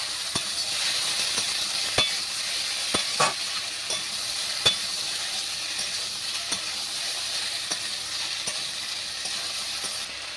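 Ground green chili paste frying in a pan, a steady bright sizzle running the whole time, with sharp stirring scrapes and clicks now and then, close and alone with no voices.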